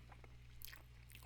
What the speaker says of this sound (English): I was chewing up some meat for the cat.